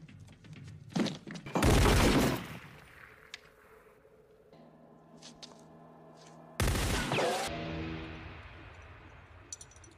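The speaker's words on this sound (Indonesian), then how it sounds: "Dengan kejam dia menembaki orang yang mengaku sebagai anak buah Mocho." Gunfire in a gangster film scene: bursts of shots near 1 and 2 seconds, a quieter stretch of tonal score with occasional single cracks, then another loud volley near 7 seconds fading into ringing music.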